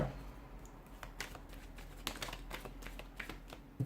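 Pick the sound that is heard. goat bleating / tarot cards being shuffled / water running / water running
tarot cards being shuffled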